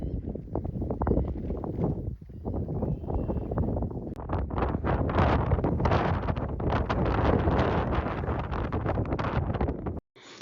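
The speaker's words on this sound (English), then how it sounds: "the wind started picking up today and making it even more difficult." Strong wind blows steadily across a mountain home construction site, a loud continuous roaring rush buffeting the microphone with gusts throughout, and no voices heard.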